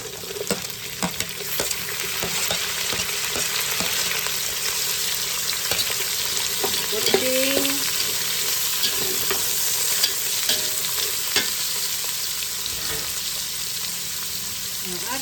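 Food browns and fries in a pan for a Chinese-style home dish, a steady sizzle with occasional stirring scrapes and clinks, close and continuous with no talking.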